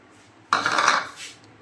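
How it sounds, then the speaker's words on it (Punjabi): A bowl of salt tipped into a metal pressure cooker to heat for roasting black chickpeas: one dense, gritty rattle of grains striking metal, lasting about a second, then settling, with no voices. "ਇਹ ਮੈਂ ਕੋਲੀ ਜਿਹੜੀ ਭਰੀ ਸੀ ਨਮਕ ਦੀ ਇਹਦੇ ਵਿੱਚ ਪਾਤੀ ਕੁੱਕਰ 'ਚ"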